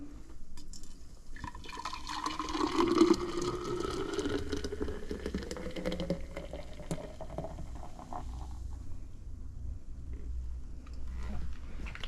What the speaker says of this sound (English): So here we are, we got our container and my lovely mug here. We're gonna just pour this over.